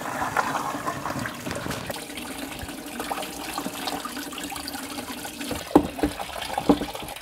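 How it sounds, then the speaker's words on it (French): Liquid drains from a disconnected hose and is being caught for reuse, running as a steady close trickle with a few louder splashes and drips toward the end. "Ok, là ça coule genre bien quoi."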